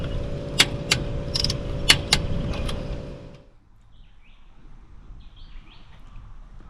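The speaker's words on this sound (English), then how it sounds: "just wait for the double click and you're on" A torque wrench tightens the wheel nuts on a vehicle, with several sharp ratcheting clicks over mechanical rattle at close range, then the noise drops away to quiet outdoor ambience.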